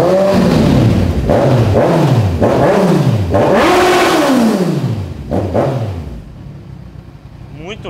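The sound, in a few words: 2014 motorcycle engine started in neutral and revving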